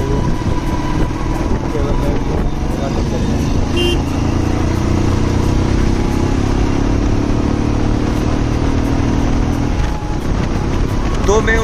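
A motorcycle overtakes other vehicles on a road, its engine a loud continuous drone amid traffic, with horn toots now and then.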